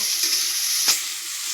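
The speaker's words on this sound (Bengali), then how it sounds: "ফুলকপিটা একটু ভালো করে ভাজব" Cauliflower fries in a pan with a steady hiss of sizzling oil, close and even, marked by one brief louder spatter partway through.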